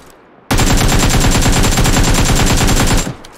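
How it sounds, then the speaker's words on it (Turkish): Rapid automatic rifle fire in PUBG Lite, a loud continuous burst of evenly spaced shots lasting about two and a half seconds, then a brief quiet tail. "Bakın şimdi size bir deneme atış yapsam izle."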